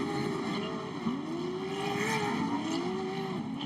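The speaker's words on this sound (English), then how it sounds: "You hear him dipping in and out of that throttle, holding it down on the loud pedal." Off-road RC truck in short course stadium racing, its engine revving loudly and continuously with the throttle dipping and rising in pitch, close and steady with no talk over it.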